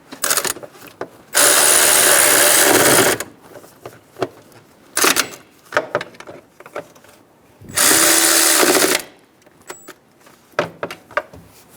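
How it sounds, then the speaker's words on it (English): Ratchet wrench snugging bolts on a radiator bracket of a 2011-2014 Hyundai Sonata 2.4L: two sustained bursts of rapid ratcheting, each about one to two seconds, separated by scattered clicks and metallic handling noises, close and fairly loud. "Install the bracket and get the bolts started. Snug the bolts down."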